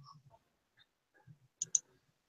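A computer mouse gives a quick pair of crisp, faint clicks in a near-silent room, preceded by a few soft scattered taps.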